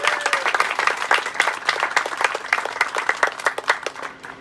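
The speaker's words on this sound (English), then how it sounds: "I'd actually like to have you give a round of applause to Claire for that" An audience at a Smithfield affordable housing event applauds Claire, a steady burst of dense clapping from a nearby crowd that carries on for several seconds before starting to thin out.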